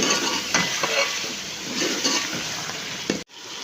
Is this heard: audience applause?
no